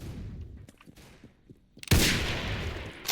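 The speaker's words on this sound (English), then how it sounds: "I exploded it." A sudden loud explosion in a video game bursts in after quieter game noise, with a heavy thud followed by a sustained roar that slowly fades.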